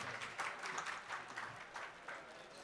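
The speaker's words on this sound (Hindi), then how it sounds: "आप तमाम हजरात तालियों से उनकी हिम्मत अफजाई करें।" An audience at an Urdu mushaira poetry gathering in Nagpur gives a fairly faint, distant round of applause, the clapping wavering in bursts for a few seconds.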